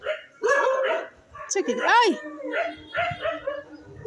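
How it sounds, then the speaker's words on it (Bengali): Dogs in a village lane bark and yelp at two cows in a series of sharp, close bursts, with a person speaking between the barks. "কুকুরগুলো কি করছে দেখো।"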